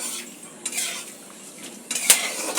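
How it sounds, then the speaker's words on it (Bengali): Ingredients lightly fry in a pan while a utensil stirs and scrapes, giving intermittent metallic clinks over a soft background hiss, close and fairly clear, with no speech. "তো এগুলো হালকা করে জাস্ট একটু ফ্রাই করে নেবো"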